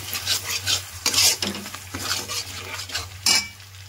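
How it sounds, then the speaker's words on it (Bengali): Spice masala with salt for egg rezala, stirred and mixed in a frying pan: repeated bursts of scraping and clattering utensil strokes over a soft sizzle and a low steady hum. "এবার সব একসঙ্গে আমি ভালো করে মশলার সঙ্গে মিক্স করে নেব"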